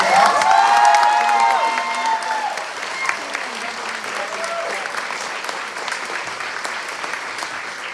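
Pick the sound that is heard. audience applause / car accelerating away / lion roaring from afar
audience applause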